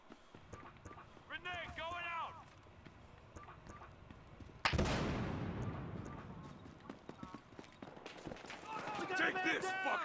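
Enemy grenade going off in a first-person shooter, one sharp, loud blast that decays over a couple of seconds, set among footsteps, gunfire and chirpy game effects, with talk over it.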